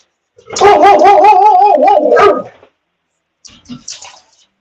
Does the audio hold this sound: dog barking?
yes